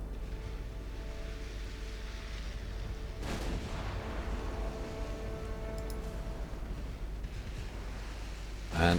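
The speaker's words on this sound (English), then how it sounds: "We are taking fire." Naval gunfire from warships in Ultimate Admiral Dreadnoughts, with German ships under attack around 1910: a sharp heavy boom stands out mid-way, another blast hits at the very end, and a steady low rumble runs between them.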